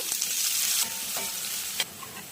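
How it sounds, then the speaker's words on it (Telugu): Cashews, onions and green chillies frying in hot oil with biryani spices for a prawn biryani, a dense close sizzle with a couple of soft stirring scrapes over about two seconds, no speech. "5-6 జీడిపప్పులు, ఉల్లిపాయలు, పచ్చిమిరపకాయలు వేస్తున్నాను."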